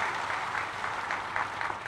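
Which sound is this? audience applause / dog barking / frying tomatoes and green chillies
audience applause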